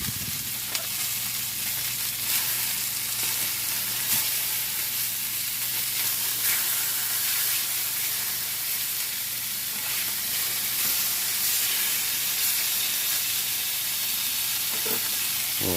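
Steak tips, dry-brined with sugar, sear in a cast iron pan: a steady, close, loud sizzle with continuous hiss and occasional sharp crackles and pops, nothing else over it.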